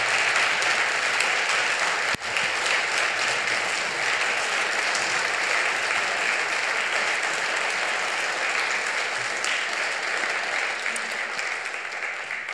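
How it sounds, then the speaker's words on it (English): Congregation at a Lutheran Sunday service gives a long round of applause for the church musicians and sound-booth volunteers, a dense steady clatter of many hands, a sharp knock early on, slowly fading at the end. "giving a round of applause for all of our musicians that serve Sunday morning"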